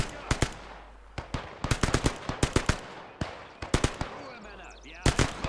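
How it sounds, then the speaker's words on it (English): Submachine gun fire in the Gates of Hell Ostfront war game: sharp, loud staccato bursts and single shots crackle in quick clusters with short pauses, some echoing, while someone talks over the shooting. "I get these submachine gun guys up against this rock so they can begin firing on the"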